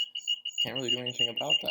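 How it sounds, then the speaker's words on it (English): A steady high-pitched electronic beep from a MacBook Air whose audio fan is not cleaned out whines continuously in the background while a person talks over it. "I'm sorry for the beeping noise in the background."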